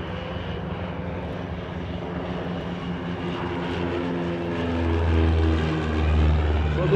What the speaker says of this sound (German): Eine schöne Aero 45, ein tschechisches. Jetzt im Anflug auf den 15.